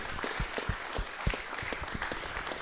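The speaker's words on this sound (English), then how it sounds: "I want everyone to give a bit of quick round of applause for Astro" Quick round of applause from an esports tournament crowd at ACL Brisbane, dense steady clapping with scattered sharper hand claps, moderately loud and continuous throughout.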